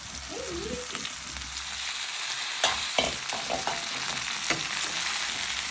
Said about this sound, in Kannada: ಈ ಥರ ಫ್ರೈಗೆ ಕೊಯ್ದಿರೋ ಬೀರೆಕಾಯಿನ ಹಾಕ್ಕೊಳ್ಳೋಣ.